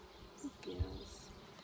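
Honeybees buzzing faintly during a summer hive inspection as a frame is lifted, a soft low hum with a few brief louder passes close by.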